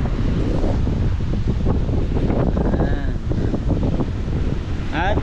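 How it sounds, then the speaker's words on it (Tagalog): Big sea waves and strong wind roar continuously at the shore, heavily buffeting the microphone, with a voice faintly audible under the noise. "Yan o, lalaki ng alon."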